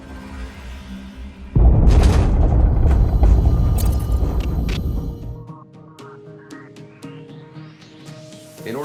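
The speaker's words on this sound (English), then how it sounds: "Gunfire and the roar of jets echo." Gunfire and jet roar from the combat flight game Ace Combat 7: a sudden loud, dense roar bursts in, holds for a few seconds, then drops away into rising whining tones.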